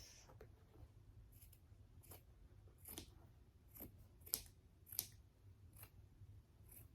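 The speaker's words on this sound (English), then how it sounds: "then you're gonna cut around the back of your shoe, like this" Scissors snipping fabric around the back of a white Air Force 1 sneaker, a steady series of quiet, close, crisp cuts spaced about every half second with a faint low room hum beneath.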